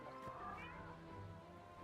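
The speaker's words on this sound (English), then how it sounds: "Look at this cat." A cat meows inside the Destiny 2 video game, heard faintly under steady game music and ambience through a short stretch.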